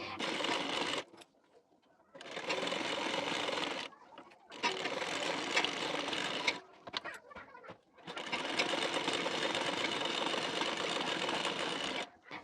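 Sewing machine stitching a blouse, running in four long rapid whirring bursts separated by short pauses with softer handling noises, close and fairly loud, no talk.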